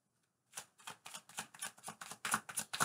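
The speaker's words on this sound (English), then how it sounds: "Cards are well shuffled." Rapid riffling of tarot cards, a steady series of crisp papery bursts about every quarter second, close and fairly quiet, with no talking.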